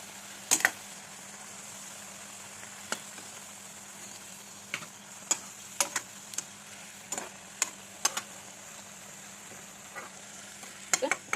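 Sweets frying in hot oil give off sparse, sharp crackles and pops at irregular intervals over a faint, steady background hum, fairly quiet and with no talking.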